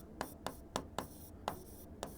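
Chalk or marker writing strokes on a classroom board during a maths lesson, a series of short scratchy bursts in an uneven rhythm, close and moderately quiet.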